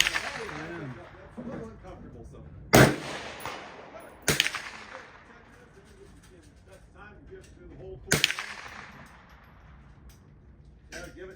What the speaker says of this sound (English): So I'll do another 3-shot group, check my elevation